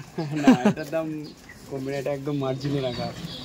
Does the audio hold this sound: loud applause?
no